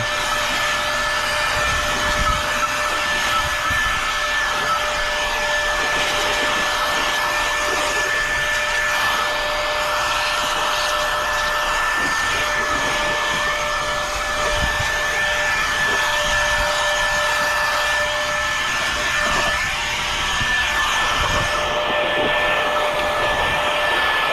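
An air blower clears pine pollen out of the gaps of a motorbike, a steady loud whining rush of air with a constant high tone that runs unbroken throughout.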